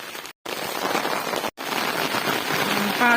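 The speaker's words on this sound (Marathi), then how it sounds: "किती जोराचा पाऊस आहे" Heavy rain pours down steadily over black gram farm fields, a dense continuous hiss broken by two brief dropouts, with no talk.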